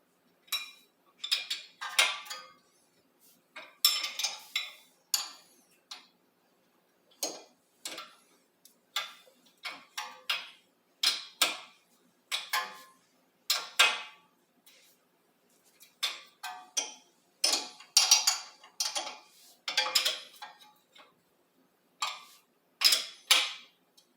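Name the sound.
wrench turning bolt to loosen brake rotor nut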